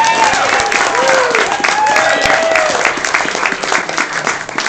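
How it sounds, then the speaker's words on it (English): An audience at a 20th-anniversary celebration gives a sustained round of applause. The steady clapping comes with a few scattered cheers and whistles throughout. "So let's have a round of applause for all of us."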